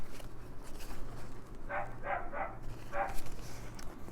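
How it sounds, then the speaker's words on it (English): A dog gives a few short, annoyed territorial barks at a distance, in two small bursts over a steady low background hum indoors. "It sounds like a get out of my territory kind of bark, doesn't it?"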